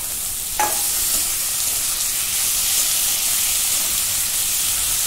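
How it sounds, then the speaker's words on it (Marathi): Medium tomatoes sautéing with well-browned onion in a pan for bhurji, a steady hissing sizzle opened by a single sharp clink of a utensil, close and uninterrupted with no voices. "हे पण 2 मिनिटं परतून घेते."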